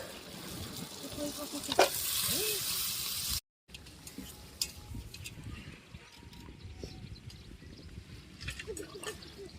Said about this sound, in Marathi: कांदा मस्त शिजलाय तर आता मासे टाकून घेते